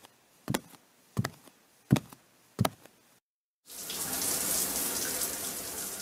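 Four sharp knocks in a steady rhythm, then a brief silence, then a loud steady hiss of running shower water that continues to the end, close by with no voices.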